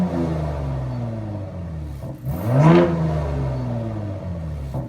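A Gen3 Ford F-150 Raptor with an AWE catback exhaust idles in a deep steady rumble, then gives one quick rev that rises and falls back to idle, alone with no talk.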